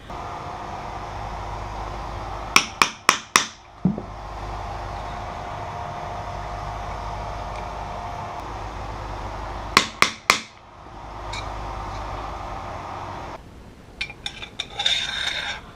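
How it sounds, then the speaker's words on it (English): A hammer peens a new pin on an SKS rifle, in two quick bursts of three or four sharp metallic taps several seconds apart, close and clear over quiet room hiss. "putting the new pin back in, and then peening it back."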